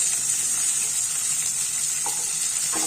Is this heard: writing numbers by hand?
no